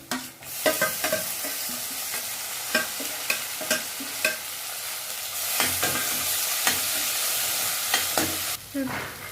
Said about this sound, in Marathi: आपल्याला कांदा अद्रक लसूण पेस्ट टाकायची आहे। आता टमाटर टाकणार आहोत आपण।